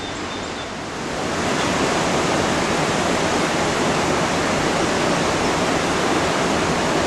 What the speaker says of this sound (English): standing here, I could feel the rumble of that one gate that's open.